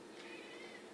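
A mother cat gives a single drawn-out meow, faint and fairly close, with no talking over it.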